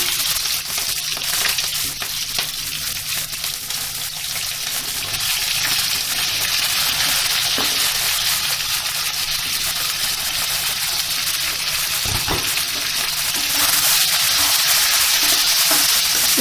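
Chopped onions fry in oil with whole spices and bay leaves for chicken curry, a steady close hiss and crackle punctuated by spatula scraping and stirring, growing slightly louder toward the end.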